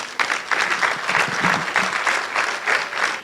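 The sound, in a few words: audience applause for keynote speaker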